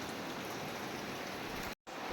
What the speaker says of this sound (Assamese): এইটো ডাঙৰ ঝৰ্ণা ন, সৰু ঝৰ্ণা, ইয়াৰ পৰা অলপ অলপ পানী পৰি আছে